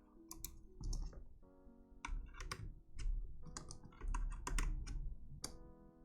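Rapid clicky typing on an unmodded keyboard with click-jacket switches: dense bursts of crisp, close keystrokes rattle on alone in a quiet room.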